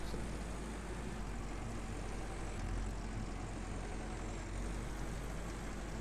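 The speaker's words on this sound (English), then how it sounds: "Just gonna ride around in silence and listen to the tractor for the next 20 minutes" A tractor engine in the farming game Farmers Dynasty drones steadily and loudly while driving, a continuous low rumble with no talk over it.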